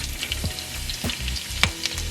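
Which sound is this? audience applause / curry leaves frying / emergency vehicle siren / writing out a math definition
curry leaves frying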